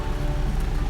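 Steady rain falls in a continuous, even hiss with a low rumbling undertone, dense and close.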